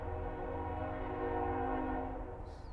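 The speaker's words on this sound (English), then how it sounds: "You're trying to play a song and the train goes off" A train horn holds a long, steady tone from a nearby railway while a guitarist sits on a back porch between songs.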